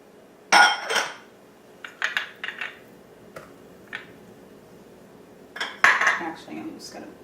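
Ingredients for raw vegan lemon squares, including dates, tumble into a food processor bowl, giving a few sharp clattering knocks and scattered clinks at close range, with quiet gaps between them.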